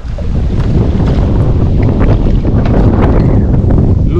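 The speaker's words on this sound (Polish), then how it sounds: "powiało wiatrem." Strong wind roars and buffets against the microphone, a steady rumbling gust with a faint watery wash behind it.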